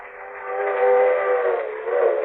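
A steam train rumbles with a sustained, loud, harmonic whistle blast, used as a sound effect in a 1945 radio drama. The whistle holds steady for over two seconds with no voices.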